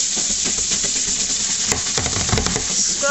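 A rabbit litter box scrubbed with bleach, brisk continuous scrubbing with a wet hissing texture and a few sharper scrapes, close and steady with no voices.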